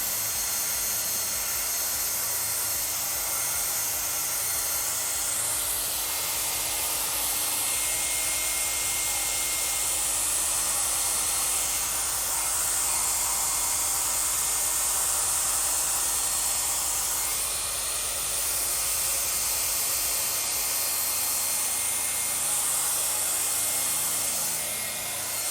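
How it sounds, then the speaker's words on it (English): A hair dryer runs continuously to warm film-developing chemicals, a steady whirring blow with an airy hiss that holds at an even level throughout. "I moved it away because I have the hair dryer going."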